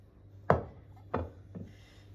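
A knife cuts through a zebra-patterned rolled sponge cake, three separate soft chopping thuds against a board, close and quiet, with no talking.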